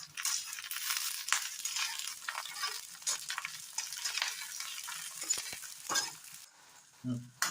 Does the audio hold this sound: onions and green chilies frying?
yes